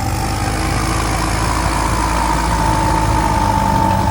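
An M108S dump truck engine runs steadily, a loud continuous idling rumble with no break throughout.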